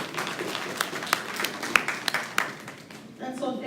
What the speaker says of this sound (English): So let us just clap these schools.